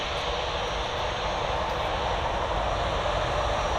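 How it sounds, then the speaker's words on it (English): A small EasyJet Airbus A319-100 jet on runway 05L at Manchester Airport, bound for Newquay, gives a steady, loud, broadband engine roar that holds unbroken throughout, with no talking. "It's the little Easyjet going down to Newquay. So Airbus A319-100."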